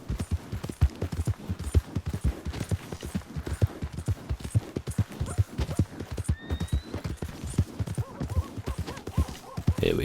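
A horse's hooves clip-clop in steady rhythm in Red Dead Redemption 2, close and continuous for about ten seconds, with a brief whinny partway through.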